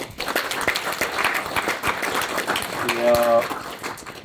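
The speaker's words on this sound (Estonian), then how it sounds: "Teeme neile ka ühe suure aplausi." Audience applause at a tribal club anniversary event in Tallinn, a steady wash of many hands clapping that carries through the whole stretch, with a brief tonal sound partway through.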